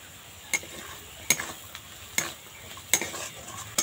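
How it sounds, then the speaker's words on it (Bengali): Ground coriander, cumin and chilli powder frying in a pan for potato patties, with a spoon clinking and scraping against the metal in a steady rhythm of sharp taps over a faint sizzle. "এই মশলাটা দেওয়ার পর বেশি সময় ভাজবো না, তাহলে তিতো হয়ে যাবে।"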